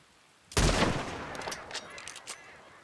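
A single loud rifle shot at a bird in Red Dead Redemption 2 cracks out sharply and rolls into a long outdoor echo, with a few faint rattles trailing after.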